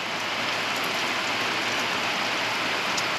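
Steady rain from a passing line of storms, a dense even hiss of drops falling on surfaces, moderately loud and unbroken, with no voices.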